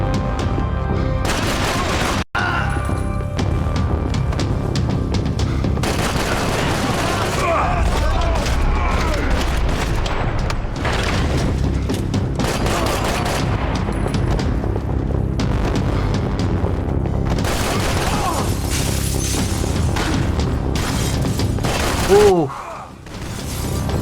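Gunfire and booming blasts from the video game Max Payne 3, with loud bursts of shots and impacts that run almost without a break over heavy game action, and someone talking now and then.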